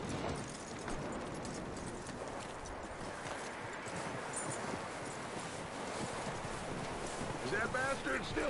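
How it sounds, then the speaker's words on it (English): Horse hooves clip-clopping at a steady walk in Red Dead Redemption 2, soft and continuous beneath wind noise, with a voice speaking over it. "That looks like a decent horse."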